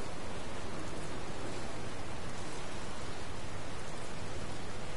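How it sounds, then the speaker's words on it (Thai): Steady rain falls in the video game Dragon Quest Builders 2, a dense, even hiss that fills the whole stretch without pause or voices. "โอเคฝนตกด้วย"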